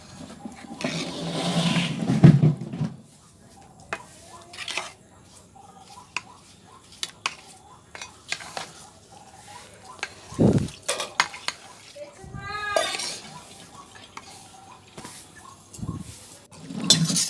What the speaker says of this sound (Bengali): এরপর আমি জল দিয়ে সেটা মিক্স করে নিয়ে একটু ফুটিয়ে নেব।